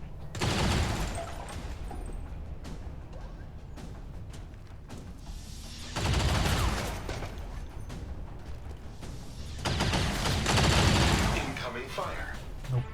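Bursts of gunfire in Long War 2 crackle in three dense rapid volleys separated by quieter stretches, loud and close, with a voice talking faintly underneath.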